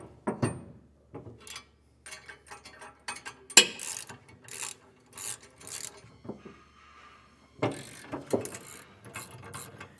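Ratcheting socket wrench with a 3/4 inch socket tightening 1/2 inch bolts with lock washers on a B&W Companion 5th wheel hitch bracket in a 2024 Ford F-350 bed: close, intermittent bursts of ratchet clicks separated by short pauses.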